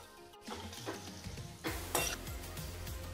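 Amla (Indian gooseberry) cooking with salt in a pan over a low flame, heard as close clinks and scrapes of a utensil stirring against the pan, with a faint sizzle underneath and no voices.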